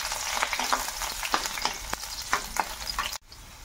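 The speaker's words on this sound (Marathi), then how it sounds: "लसूण थोडासा परतून घ्यायचा आहे।" Garlic sizzling in hot oil in a pan while being stirred for veg hakka noodles, a steady crackling fry with scraping stir strokes, close and fairly loud, ending with a brief cut.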